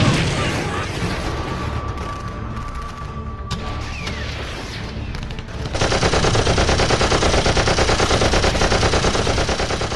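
Gunfire sound effects for a dramatized story of the Chittagong armoury raid, with scattered shots and mechanical clatter early on, then loud rapid machine-gun bursts in a dense, sustained barrage.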